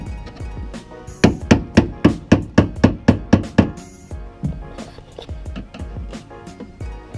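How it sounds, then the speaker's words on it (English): A hammer taps a car fender with about ten sharp, evenly spaced metallic knocks in a quick run, preceded and followed by scattered softer knocks and handling noise, close and loud. "used the hammer, yeah, tapped it down a little bit"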